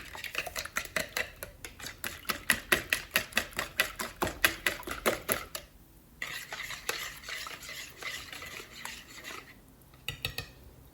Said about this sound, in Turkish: çeyrek çay bardağı zeytinyağı çırpalım